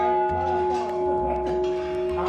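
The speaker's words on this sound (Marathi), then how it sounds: "आणि आपण जात आहोत आता घंटा वाजवण्यासाठी." A large old temple bell rung up close, a loud sustained metallic tone with steady humming overtones that keeps ringing through the whole moment, with a few faint background noises.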